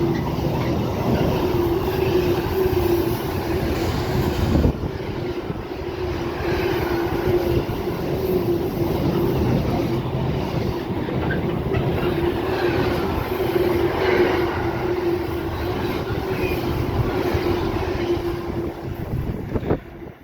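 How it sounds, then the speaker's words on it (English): Freightliner Class 90 electric locomotives, 90040 leading with 90010, roar past on a main line in a steady, loud, continuous rumble of wheels and motors that holds for about twenty seconds with no talk. "passing through now are some Freightliner 90s"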